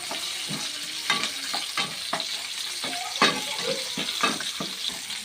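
Shallots and curry leaves stir-fry in a pan for a Kerala beef roast, crackling under a brisk series of spatula scrapes and knocks against the pan, fairly close and fairly loud.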